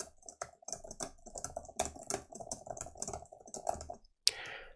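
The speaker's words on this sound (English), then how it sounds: "Now keyboard test." Typing on a computer keyboard picked up by a desk microphone: quick, irregular bursts of close key clicks and taps, ending with a brief louder clatter.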